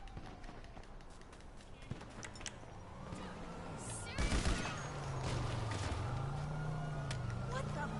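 Police gunfire aimed at the player in a video game: a sharp burst of shots in the middle, set against ongoing game noise and a low, wavering engine-like hum.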